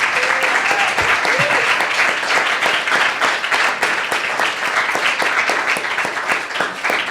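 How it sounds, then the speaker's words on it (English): Congregation at a young adults church service breaking into a big round of applause, continuous dense clapping from many people, loud and sustained throughout with no pause. "We can just give her a big round of applause and say well done."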